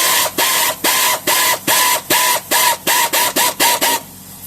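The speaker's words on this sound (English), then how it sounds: "I'm starting to struggle on that ratchet, so that's probably too tight now" A ratchet wrench tightening the handbrake cable on a Jaguar XKR, about a dozen rapid, evenly spaced ratcheting bursts with short clicks between them, close and loud, then stopping.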